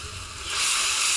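Spice paste of ground onion, salt, turmeric, coriander powder and green chilli sizzling in a pan over a clay stove, a steady broad hiss that swells louder midway and holds, with no talking.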